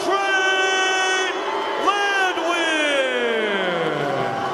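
Fans at an MMA event in Knoxville roar and whoop for the winner, loud sustained yelling and bellowing voices rising and falling in waves that fill the arena.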